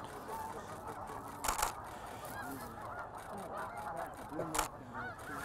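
A flock of geese honks and calls near water, a dense overlapping chorus with a couple of louder bursts standing out, heard at moderate distance with no talking.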